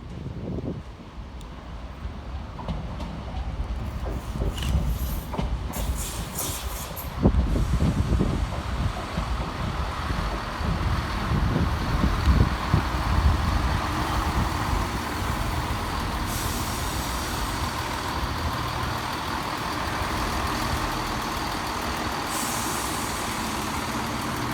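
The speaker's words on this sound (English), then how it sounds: "Arriving next into the station is 170 459 with the 13:05 Northern service from Leeds through to York." A Northern class 170 diesel unit, 170 459, pulls into Harrogate station with a steady, loud mechanical rumble and hiss that builds midway and holds. Faint higher whines ride over it, with no talking.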